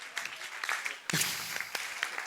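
Scattered applause from a small live audience at a startup sales talk, a burst of sharp claps rising after a brief lull and continuing unevenly at moderate volume.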